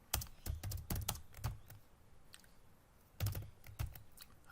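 Clicky keystrokes on an Apple II computer keyboard come in quick clusters separated by a brief pause, close and moderately loud, with no voices.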